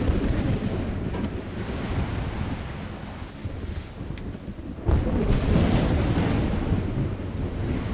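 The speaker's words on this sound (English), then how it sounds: "There's definitely some frickin' radioactive storm or something coming." Thunder from a radioactive storm in the Metro Last Light video game rolls loud and continuous, a dense low rumble with wind-like roar that surges again after a brief dip midway.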